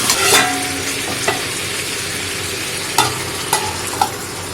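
Chicken and pre-fried new potatoes are stirred together in a pan for a spicy curry, with a steady sizzle throughout and several sharp scrapes and clinks of the spoon against the pan. No one speaks.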